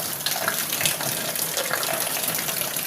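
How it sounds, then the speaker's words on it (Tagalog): Heavy evening rain pours without letup, a dense, steady hiss of water that stays loud and even throughout, with no voices. "Walang tigil pa rin ang buhos ng ulan."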